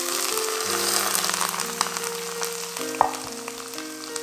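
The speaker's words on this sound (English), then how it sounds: "pour this oil over the aromatics to help it release its flavor" Piping hot oil is poured over chopped aromatics, setting off a loud, steady close sizzle with scattered crackles and one sharp pop, while a low musical tone hums underneath.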